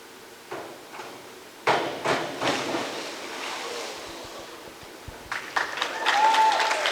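A crowd reacts at an indoor high school swim meet during the diving event. Swelling bursts of voices and clapping rise abruptly and echo around the pool hall, with quieter gaps between them.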